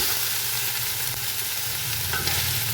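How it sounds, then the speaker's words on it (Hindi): Chicken fries in curry paste while being stirred, a continuous loud sizzle with occasional scraping strokes of the spoon against the pan. "तो अब हम इसमें सबसे पहले चिकन शामिल करूँगी। मैं थोड़ी देर के लिए इसे भूनूँगी।"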